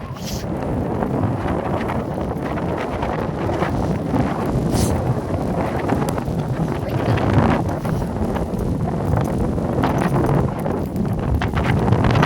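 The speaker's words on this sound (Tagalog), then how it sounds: "Hindi, hangin yan." Steady wind buffeting a microphone outdoors at West Kirby Beach, England, a constant broadband rumble with gusts, and faint scattered sounds in the background.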